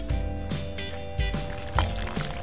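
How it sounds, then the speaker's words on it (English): Water poured onto the ground near limestone blocks at a primary school, a steady close splashing stream with a few heavier gushes over about two seconds. "I'm going to pour this water."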